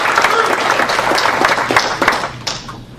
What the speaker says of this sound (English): give a round of applause to our great conference chair, Phil.